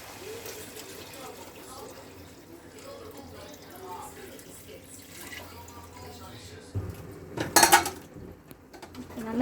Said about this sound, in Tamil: இப்போ 2 சொம்பு தண்ணி ஆட் பண்ணிக்கலாம்.